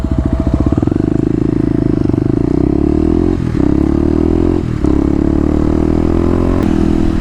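A Kawasaki KLX250 dirt bike with stage 1 mods accelerates hard from a standstill toward 60 mph, its loud, close engine note climbing steadily, with brief dips at gear shifts and no speech.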